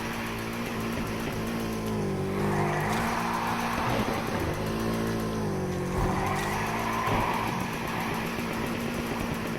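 A Nissan Skyline drifts with its engine revving hard and rising and falling in pitch, while two long bursts of tire squeal and skidding surge over it. No one talks.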